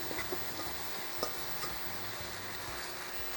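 Cooked cassava goes into a pot of sauteing seasonings for a cassava pie, a close steady sizzle with a few soft knocks and scrapes, no talk.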